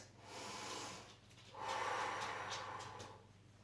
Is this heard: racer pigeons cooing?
no